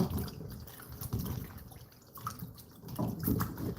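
Water runs and splashes as salt is rinsed off cut eggplant, an uneven trickling and spattering that swells louder toward the end, with no talk.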